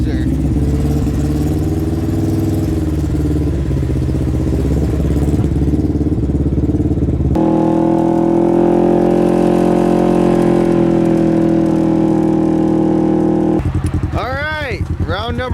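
A Polaris RS1 engine runs loud and steady with a sustained drone, stepping up to a higher revving pitch midway, then sweeping in quick rising and falling revs near the end; voices can be heard over parts of it.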